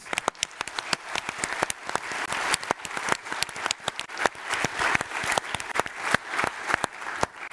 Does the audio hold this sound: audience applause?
yes